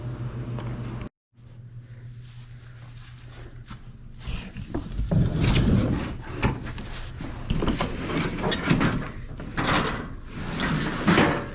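Heavy doors on farm silos are shut in a run of knocks, scrapes and thuds, near and fairly loud, after a low steady hum broken by a brief gap.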